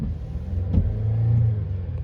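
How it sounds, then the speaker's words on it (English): A GM 3.6 engine in a Chevrolet Traverse revs up from a steady rumble after a timing chain repair, rising briefly and holding a higher pitch before easing, loud and close with no talking. "Engine revs up,"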